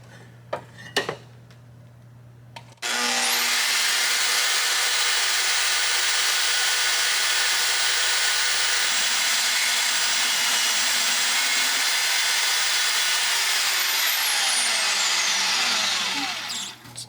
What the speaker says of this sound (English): the lathe will be able to cut this square